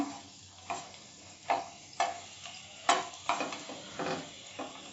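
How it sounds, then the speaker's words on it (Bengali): Dried red chilies crackle and pop in hot oil in a pan as a sambar base gets started, sharp snaps and spoon scrapes landing irregularly over a steady close sizzle. "আমি শুকনো লঙ্কাটা ফাটিয়ে দিলাম। একটু নেড়ে দিলাম।"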